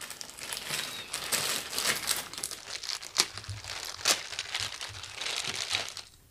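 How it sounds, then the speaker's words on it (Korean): Crinkling plastic packaging being torn open for a Speed Stacks cup keeper, a run of close, dry crackles and rips with sharper snaps throughout and no talking. "이것도 한번 뜯어볼게요"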